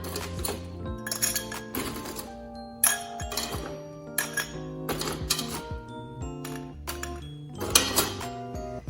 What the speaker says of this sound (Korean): 칠링해놨던 글래스 있는 얼음을 버리고 다시 얼음을 채워줍니다.